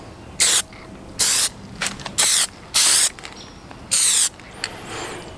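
Short bursts of aerosol spray paint lay a final coat on car badges, five or six loud close hisses separated by brief pauses, with no voices.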